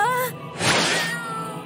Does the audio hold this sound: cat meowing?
yes